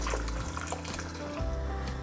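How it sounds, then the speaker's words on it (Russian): Hot water poured over soup ingredients in a 3-litre pot, a steady close splashing, gurgling pour that runs continuously without a break. "А теперь все продукты заливаем горячей водой."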